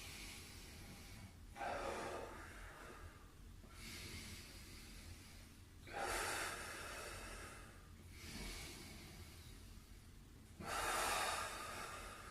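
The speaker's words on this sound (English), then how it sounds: "Big deep breath in again. Breathe out as you go down." Slow, deep breaths during post-workout stretching: four long airy inhales and exhales, spaced a few seconds apart, close and clear over quiet background hiss.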